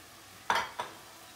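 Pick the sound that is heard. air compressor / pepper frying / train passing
pepper frying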